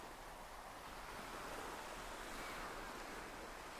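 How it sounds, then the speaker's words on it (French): Ocean waves wash steadily onto a shore in a continuous, even roar of surf with a faint windy hiss, alone and without pauses. "Le bruit des vagues"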